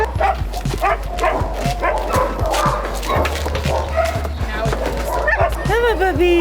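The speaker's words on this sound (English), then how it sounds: "Come on, puppies." Rescue puppies being loaded for a road trip bark, yip and whimper close by in a busy, overlapping stream. Rising whines become clear near the end, over a low steady rumble.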